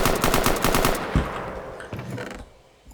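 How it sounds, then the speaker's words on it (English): Video game M16 rifle firing three-round bursts in a Minecraft guns mod, rapid loud cracks in tight clusters that tail off into an echoing fade. "the M16 is now burst fire. So it has a 3-round burst"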